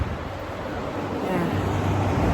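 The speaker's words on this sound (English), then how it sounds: "so excuse the traffic noise" Motorway traffic rushes past beside a gateway with a Samaritans call box, a continuous low roar that grows slightly heavier toward the end, with a faint wind-like hiss.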